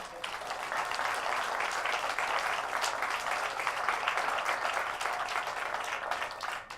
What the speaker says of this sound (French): Là, on peut les applaudir